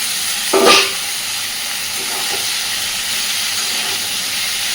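Fried potatoes and cauliflower hit hot spice masala in a pan, a brief clatter followed by a steady, continuous sizzle and hiss close by with no talk.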